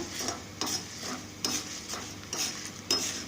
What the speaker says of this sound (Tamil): உளுத்தம்பருப்பை போட்டுடலாம் தலையும் போட்டுடலாம் இதை செவக்க வறுக்கணும்